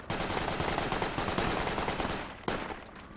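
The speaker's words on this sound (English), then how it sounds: "they're shooting at us from west," Rapid automatic gunfire in the Project Reality military shooter game, a fast rhythmic stream of shots for over two seconds, then a single sharper crack and a faint trailing pop, close and loud.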